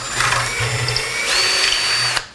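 A power drill bores a hole into a clamped 1x2 lumber board, a steady whine lasting about two seconds that rises in pitch near the end before stopping abruptly.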